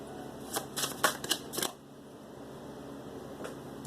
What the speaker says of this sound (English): Let me give it a quick little shuffle a little bit more.